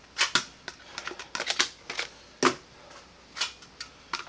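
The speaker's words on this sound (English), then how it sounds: "So I have the blaster in this hand, and I'm drawing mags" Blaster magazines pulled from 3D printed Nightingale holsters give a run of sharp plastic clicks, snaps and brief scrapes. The sounds come close by in irregular bursts with quiet gaps between them.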